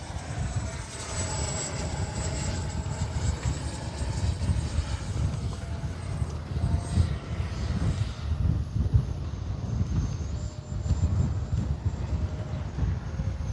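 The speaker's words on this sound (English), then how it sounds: "Great flying little jet though." A Flyfans 64mm L-39 RC jet in olive camo flies overhead, a continuous ducted-fan whine and rushing roar that holds steady and close, swelling and fading slightly as it passes, with no talking.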